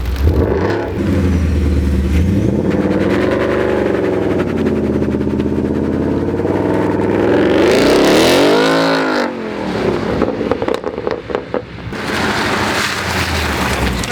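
Ford Mustang engine, loud and close, revving up through rising and falling pitch sweeps, with a surging acceleration that peaks and then drops off into throttle blips and a rumbling idle.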